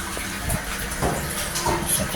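Water pours steadily into an LG TurboDrum washing machine that had been clogged, a continuous rushing fill with slight surges and a faint voice in the background.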